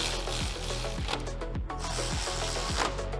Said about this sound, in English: I'm going to go ahead and tighten down the brake caliper hardware.